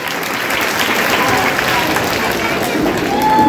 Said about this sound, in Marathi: तुम्हाला नाटक आवडलं असेल तर पुन्हा एकदा जोरदार टाळ्या वाजवायला हरकत नाही मित्रांनो